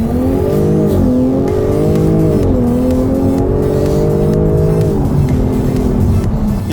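A 2021 Jaguar F-Type P380 sports car roars as it accelerates hard from a standstill, its engine note climbing loud and close through several gear changes with brief dips between them.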